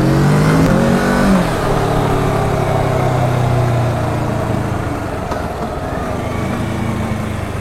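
A Kawasaki Z650 motorcycle with its stock exhaust revs up and pulls away loudly nearby, its pitch climbing and falling as it accelerates, then fading slightly toward a steady drone.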